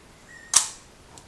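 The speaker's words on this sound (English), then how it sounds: "here's the shutter speed test. It's on 1/1000th of a second." A single sharp click from a Canon P rangefinder shutter firing at 1/1000 second, loud and close in a quiet room, followed by a faint softer tick moments later.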